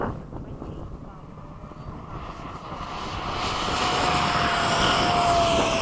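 F-16 fighter jet flying in formation, a steady loud engine roar with buffeting wind noise that swells and builds toward the end.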